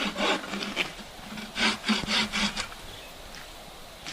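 A bow saw cuts through a small tree in a snowy forest, its rhythmic strokes rasping through the wood in a steady back-and-forth run of about seven pulls, close and fairly loud.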